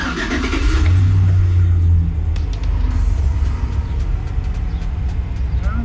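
Four-wheel-drive municipal truck engine cranks and fires, settling into a loud, rough low rumble at close range that holds steady for several seconds with no talking.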